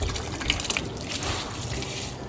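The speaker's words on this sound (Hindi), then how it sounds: "ये मैंने 6 कप राइस लिए थे, इनको मैंने हाफ एन आवर सोक किया है और अब बॉइलिंग वाटर में आपके सामने डाल।" Six cups of half-hour-soaked rice pour into a pot of boiling water for nalli biryani, a close splashing, watery rush with a few drips and bubbling, no talking.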